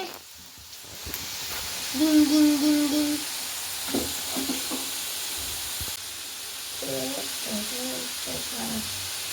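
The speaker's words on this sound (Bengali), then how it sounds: "এখনো আলুটা ভাজা হচ্ছে, এই আলুটাও ভাজা হচ্ছে" Potatoes fry in hot oil with a steady, fairly faint sizzling hiss that runs through the whole stretch, while a voice speaks and sings short tones over it.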